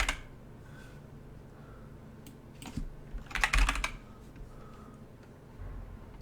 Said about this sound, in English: Let's just type it in, M1A.